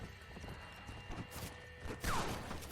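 Horse hooves pound steadily in the Red Dead Redemption video game while riding, with a dense mix of game noise and a sharp sweeping sound near the end.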